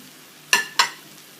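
Tomato, curry leaves and green chilli hit the pan one handful after another, two sharp bursts of sizzling a fraction of a second apart over a quiet background, no talking.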